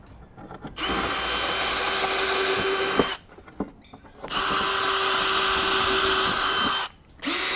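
A power drill pre-drills holes in the cedar roof of a Flow beehive, with two sustained bursts of whining motor broken by short pauses and small handling knocks, close and loud.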